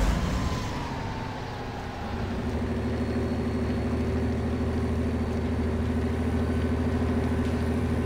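Off-road truck engine in the SpinTires simulator churning through mud, a steady loud droning rumble that holds throughout with little change in pitch.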